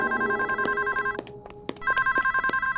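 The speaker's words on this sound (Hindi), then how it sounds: "फोन देखो ना। देख के नहीं होगा, उठाना पड़ेगा।" A telephone rings with a repeated electronic trill, loud and close, pausing briefly in the middle before ringing again.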